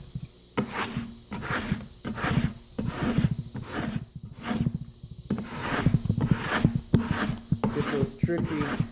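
A card scraper is drawn repeatedly across a wooden board, giving a steady series of close, raspy scraping strokes, about one per second, each with a bright hissing edge.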